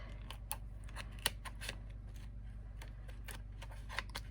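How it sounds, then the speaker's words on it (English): Several quiet, crisp snips and clicks scattered over a steady low hum, faint and close by, with no talking. "let me just grab my scissors"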